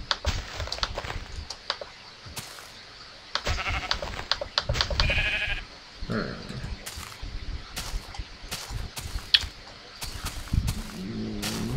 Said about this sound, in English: Sheep, what the hell are you doing up here?